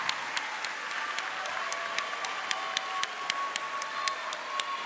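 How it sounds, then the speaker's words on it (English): An audience at a graduation ceremony applauds in a sustained, moderately distant patter of clapping. A few sharper nearby claps stand out in a loose rhythm above the steady wash for about five seconds. "give them a round of applause"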